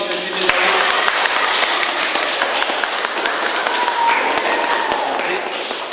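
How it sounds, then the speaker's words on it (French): A roomful of people applauds a guest sensei during a group session, with dense, steady clapping that holds loud and even for about six seconds. Voices may murmur underneath. "Alors on applaudit encore une fois pour Sensei Misaru."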